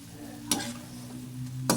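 Kueh teow noodles stir-fried with chilli flakes sizzle steadily in a pan, with a utensil scraping sharply twice through the frying.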